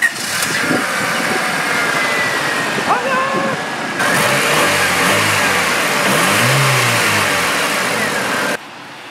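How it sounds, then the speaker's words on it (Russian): The heater blower motor of a fifth-generation JDM Honda Civic runs with a steady whirring hum and a rising drone midway, cutting off near the end, while a person talks over it. "Это мотор печки"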